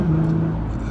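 Nissan GT-R engine droning steadily as the car is driven through a curve, a continuous close in-cabin hum with a faint rising tone at the start.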